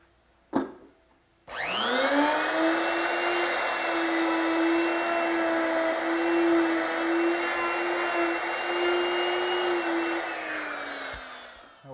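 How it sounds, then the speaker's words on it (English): Router fitted with a half-inch mortising bit cutting a hinge mortise in wood along a jig: a click, then the motor spins up to a loud, steady high whine that holds for about ten seconds before winding down. "So I've made a little jig to guide my router, and the router is equipped with a half-inch mortising bit."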